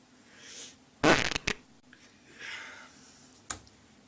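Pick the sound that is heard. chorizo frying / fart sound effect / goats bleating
fart sound effect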